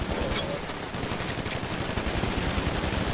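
Rapid, sustained automatic gunfire from a weapon in a video game rattles on without a break, loud and dense throughout.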